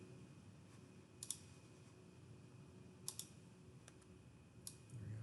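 Computer mouse clicking while working in Solid Edge CAD software, a few faint, sharp single and double clicks spaced seconds apart over quiet room tone.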